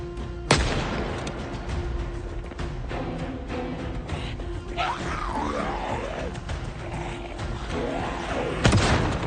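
Gunshots in Project Zomboid: a sharp loud shot at the start and another near the end, separated by a steady rumbling din with wavering groan-like moans from zombies in between.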